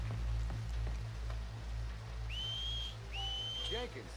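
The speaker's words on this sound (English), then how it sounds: "Make a noise. Whistle or something." Two rising whistles from a Red Dead Redemption 2 character trying to draw attention, near and clear over a steady low hum and faint background noise.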